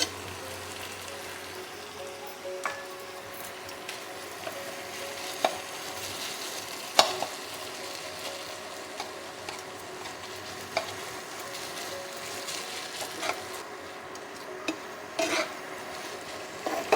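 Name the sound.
chhana (paneer) being sautéed in a pan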